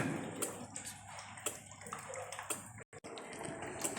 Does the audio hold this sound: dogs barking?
no